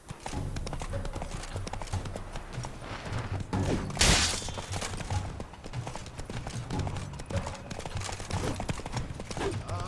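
Roach the horse gallops in The Witcher 3, a steady rhythmic clip-clop of hooves running throughout under game music and ambience, with a brief sharp burst midway.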